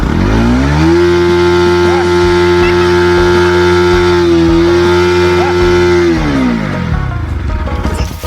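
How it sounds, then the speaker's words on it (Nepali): A motorcycle engine runs steadily after being started on a rural farm in Nepal, a loud, close, even drone that dips slightly midway before fading toward the end. "मोटरसाइकल पनि स्टार्ट गरिसकेछ"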